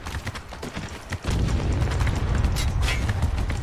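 Mortar fire in the Spec Ops: The Line video game: a sudden heavy boom swells into a dense, sustained low rumble of blasts that fills the rest of the moment, loud and close.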